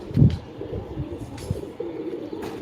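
A pet pigeon with a white beak and white eyes coos in low, throaty bursts close by, the strongest at the start and softer rumbles following, with faint rustling in the background.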